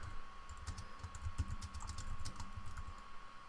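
Typing on a computer keyboard while entering text in a design app, heard as a steady, close run of quick key clicks over a faint background hum, with no talking.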